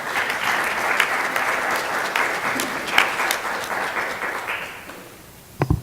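Audience applause after a presentation at a public health conference, a steady wash of clapping from a seated crowd that holds for about five seconds, then fades, with a brief final burst of a few claps.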